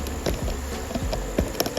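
Honey bees around a backyard beehive being prepared for winter, their buzzing a close, continuous hum with individual insects swooping past the microphone in short rising and falling passes.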